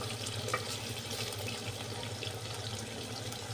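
Vegetables for vegetable spaghetti frying quietly in a pan, a soft, steady sizzle with a faint watery hiss and no voices.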